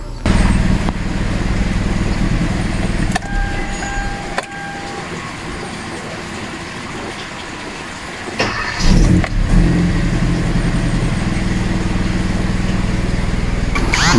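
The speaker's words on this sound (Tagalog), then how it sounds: "Makikita nyo sagad-sagad na yung pag-accelerate ko, wala pa rin." A 2014 Kia Rio with a no-RPM fault, its engine held at full throttle: a loud, steady engine drone that dips briefly and then surges back, with no talk.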